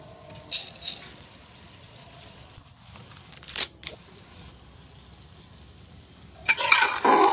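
Ginger, garlic and cumin paste frying in a pan for khichuri, with intermittent scraping stirs and a louder sizzling burst near the end, fairly quiet overall.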